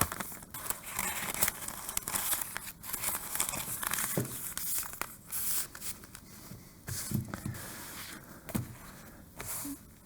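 Four sheets of butcher paper are handled and slid into a wine bag during a Cricut craft project, making continuous crinkling and rustling with crisp crackles and occasional tearing-like rasps, close and fairly loud, with no voices.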